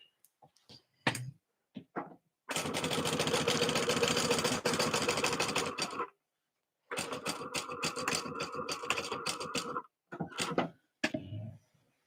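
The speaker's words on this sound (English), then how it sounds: "I'm going to go backwards stitching for a little bit" A sewing machine back-stitches a Levi utility bag near a D-ring, running in two bursts of steady whirring stitching, close and clear, separated by a pause, with scattered clicks and handling noises before and after.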